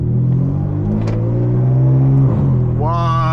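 A BMW F80 M3 accelerates while driving, its engine droning loud and close with a steady rising pitch, then the revs dip briefly before climbing again; a voice can be heard over the engine near the end.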